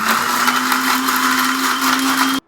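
A mixer grinder jar blends pasta sauce with a loud, steady motor whir, running alone for a couple of seconds before cutting off abruptly.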